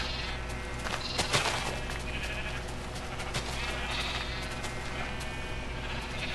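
Sheep bleat repeatedly in a blocky sandbox video game where colored sheep and lambs graze, several overlapping calls of varying pitch over a steady ambient background.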